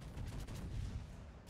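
A salvo of ship cannons fires in a naval video game, a dense, loud, rumbling barrage of overlapping booms that rolls on without a break for the whole moment.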